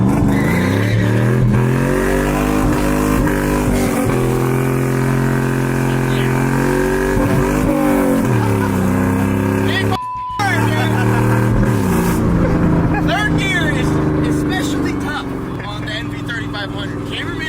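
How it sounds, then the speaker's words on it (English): Refurbished car with a single overhead cam V8 revving and accelerating, loud rising and falling engine tones with a brief cut midway, while people talk over it. "It's a single overhead cam V8, so let's see what she's got."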